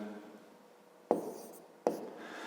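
A pen writes across a notebook page during a fifth-grade geometry exercise, with faint scratching broken by two sharp taps as the tip touches down, heard up close and alone.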